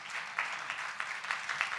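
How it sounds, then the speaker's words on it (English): Brief burst of audience applause for panelists at the Neev Literature Festival, a soft, fairly distant patter of many hands that lasts under two seconds. "could we please have a round of applause for our panelists here"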